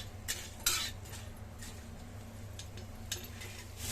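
Coriander seeds, fennel and onion roast in a spoonful of oil in a pan, a faint low sizzle under a few distinct metallic clinks and scrapes of a stirring spoon, quiet and close.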